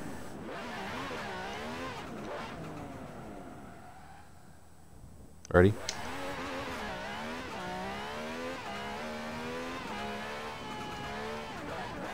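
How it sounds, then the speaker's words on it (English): A tuned Lamborghini Gallardo LP-570-4 in Forza Horizon 4 roars steadily, with a sharp bang near the middle and popping from the exhaust as the engine revs; someone talks over most of it. "Hear that turbo or whatever banging? Pop, pop, pop, pop."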